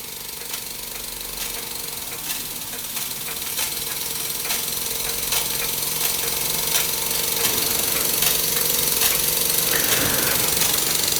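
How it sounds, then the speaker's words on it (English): A Microcosm M22 micro steam engine runs under steam, its small piston and flywheel producing a rapid, steady mechanical chuffing and rattling with hissing steam, close and continuous throughout. "Microcosm M22 under steam."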